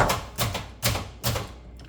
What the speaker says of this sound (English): Sorry, over here chopping.